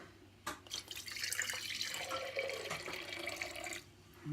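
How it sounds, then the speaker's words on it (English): Boiled and chilled water is poured into old yeast slurry, a steady close splashing and trickling stream lasting a few seconds before tapering off. "got some boiled and chilled water. Let's dump some of that in there."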